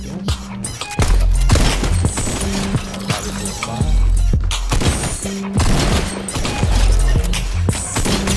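Gunfire in the video game Fortnite: repeated loud bursts of shots in clusters, some booming and heavy, separated by short pauses, with game music underneath.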